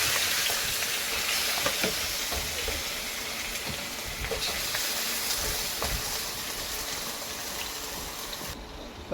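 Pork sizzles and fries in a pan with garlic, a steady crackling hiss that stays fairly close and even, broken by occasional small pops and stirring sounds.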